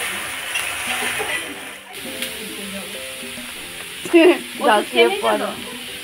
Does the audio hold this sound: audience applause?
no